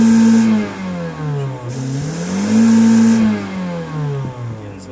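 A 2005 Kia Cerato with a hard-start fault revs as the accelerator is pressed, the engine pitch rising and falling in two smooth swells, loud and close, with no talk.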